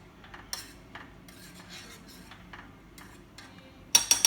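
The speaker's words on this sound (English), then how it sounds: "So I'm going to stir that little bit extra miso into that." Miso stirred into miso soup, a spoon giving light intermittent clinks and scrapes against the pot, with a louder cluster of clatter at the end.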